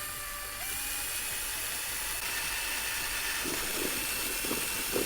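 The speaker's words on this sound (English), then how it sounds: "get the drill, and point it exactly where I marked it, which is center, and drill a hole through" A power drill bores a hole through a board held over a container, giving a continuous high whine that steps up in pitch partway through, with steady close grinding and no talk.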